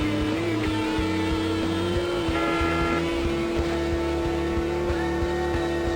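In the Dark Cloud 2 video game, a car horn toots in short bursts over steady in-game driving music, with the engine rumbling along beneath.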